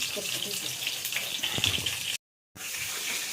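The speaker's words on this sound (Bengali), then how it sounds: "ছোটো ছোটো পেঁয়াজগুলো হালকা করে একটু ভেজে নেওয়া হচ্ছে" Small onions fry lightly in a pan for a chicken-liver chorchori, a steady close hiss and crackle that cuts out briefly near the end before resuming, with faint speech in the background.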